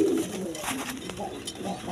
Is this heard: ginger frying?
no